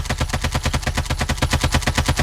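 Rapid automatic AKM rifle fire from Call of Duty Mobile, a dense continuous burst of evenly spaced shots, loud and close, with no speech over it.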